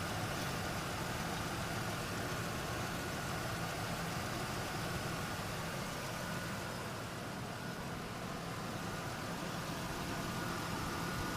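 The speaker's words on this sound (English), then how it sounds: "My compressor clutch is fully engaged and staying engaged as it should under these temperature conditions." A 2000 Ford F150 sits idling with its A/C compressor clutch engaged, giving a steady, even engine and compressor drone close to the microphone with no talk.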